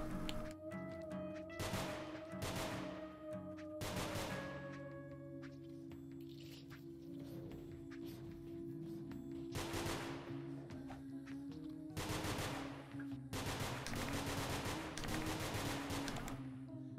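Bursts of gunfire from shooting in the video game Nongünz, several rapid volleys spaced through the stretch over a steady game music bed, with no talking.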